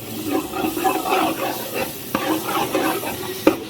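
Tomato masala simmering in oil for homemade biryani paste sizzles steadily in the pan while a spoon scrapes and stirs through it, close and fairly loud, with no speech.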